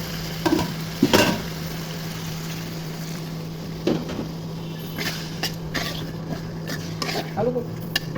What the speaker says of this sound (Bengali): আলু দিয়ে কষিয়ে নিব।